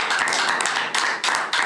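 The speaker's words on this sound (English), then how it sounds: "So let's give them a round of applause." A round of applause at a school board meeting honoring principals, with brisk close clapping from a small group of people, loud and continuous over a brief moment with slight dips.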